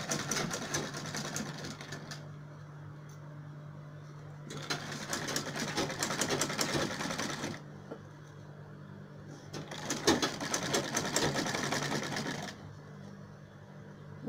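Sewing machine stitching the front zipper of a pencil skirt in three bursts of rapid, rattling needle chatter separated by quieter pauses, close and moderately loud, with a voice speaking faintly in the gaps.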